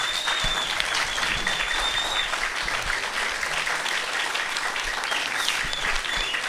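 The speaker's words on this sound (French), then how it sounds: "Il est évidemment hors de question qu'on aille manger sans une nouvelle salve d'applaudissements formidables pour David." An audience applauds at a meet-the-author gathering in Vertolaye, giving a continuous, even round of clapping from a moderately large group that holds steady without pause.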